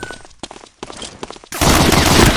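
Gunfire from the Medal of Honor Allied Assault video game: scattered shots and movement at first, then a loud, continuous burst of rapid fire close by filling the last second.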